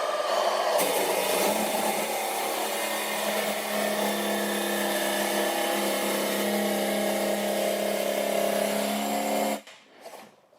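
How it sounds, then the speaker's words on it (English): Jigsaw fitted with a fine-tooth blade cutting a metal blank, a loud steady buzzing whine with a harsh rasp that holds for about nine seconds, then stops abruptly, followed by a couple of faint handling noises. "I'm using a jigsaw with a fine-tooth blade."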